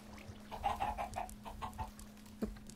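Chickens cluck in a series of quick, soft, rhythmic calls in the farm game Derpville, set against a low steady hum.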